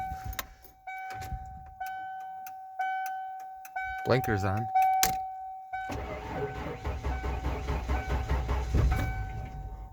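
An old truck engine cranks with a grinding, rising whir, then catches and settles into a rough, rattling idle, with a ticking signal and brief speech at the start.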